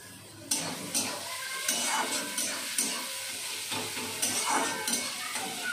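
Onions fry in a pan for a bitter gourd (karela) curry, stirred steadily with a spatula. Loud, close sizzling runs throughout, broken by a scraping stroke roughly every second.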